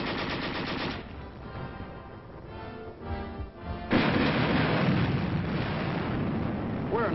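A tank gun fires on fortified hill positions, with heavy booming blasts and loud rumbling gunfire that fade for a moment and then return in a sustained roar.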